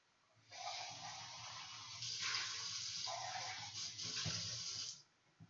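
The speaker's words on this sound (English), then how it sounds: "I'm gonna go ahead and rinse this out and stuff" Tap water runs hard into a kitchen sink while a pot is rinsed out. The water makes a steady, close hissing rush whose tone shifts as the pot moves under the stream, then cuts off.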